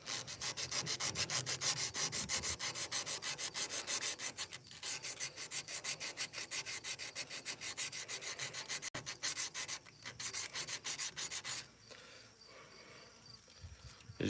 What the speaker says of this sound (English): As you can see, I'm getting the rust off it. It's starting to shine.